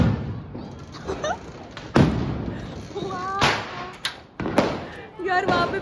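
Diwali firecrackers bursting at a distance, a few sharp thuds and booms scattered across the stretch while people talk over them nearby.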